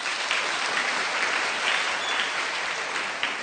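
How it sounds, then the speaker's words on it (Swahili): A congregation at a church mass applauds for the priests, a dense, loud, sustained clapping from many hands that fills the space without a break. "Hebu tuwapigie makofi mazuri."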